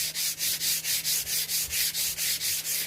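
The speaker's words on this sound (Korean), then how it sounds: "220방 사포 날이 거의 없는, 그러니까 죽은 아주 약한 사포로 전체 표면 문질러서" A worn, nearly dull 220-grit sandpaper rubbed over the surface of a tiled tabletop being refinished, making steady rhythmic strokes about four per second, close and even, with no talking.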